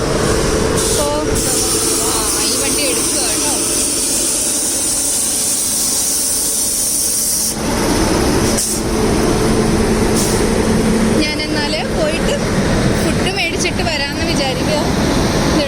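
A train rolls past at a railway station on a journey toward Patna, a loud, steady rush of wheels and carriage noise filling the whole stretch, with brief changes in texture as cars go by.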